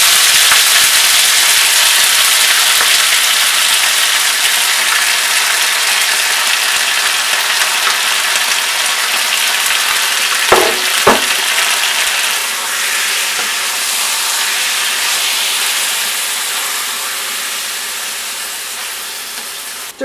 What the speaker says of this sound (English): Just tossing and stirring the meat until it's brown.